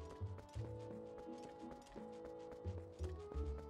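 Horse hooves clip-clop at a run in the video game Twilight Princess, rhythmic thudding hoofbeats over in-game music with tonal notes, close and fairly loud.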